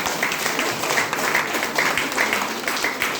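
An audience at a health and wellness talk in Nepal breaks into continuous applause, a fairly loud, even patter of many hands that lasts about three seconds.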